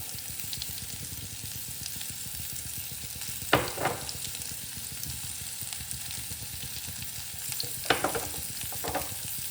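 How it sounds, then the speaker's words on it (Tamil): Ginger and tamarind sautéing in a pan, giving a continuous crackling fry close up, with two or three bursts of stirring and scraping against the pan. "ரொம்ப வதக்கணும்னு இல்லை ஓரளவுக்கு வதக்கிக்கிட்டால் போதும்"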